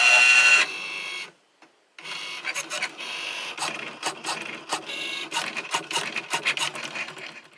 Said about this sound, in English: Now I'm going to hop over to my machine and cut it out.